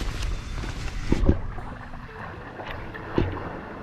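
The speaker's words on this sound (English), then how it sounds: "We are paddling for the first time in Portugal." A boat being paddled on a reservoir in Portugal, with close splashes and knocks from paddle strokes over wind noise, a couple of sharper thumps standing out.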